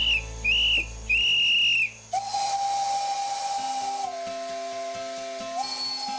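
A steam locomotive on a heritage railway at Tournon-sur-Rhône in Ardèche sounds two short whistle blasts and then a long sustained one, loud and close, with steam hissing underneath.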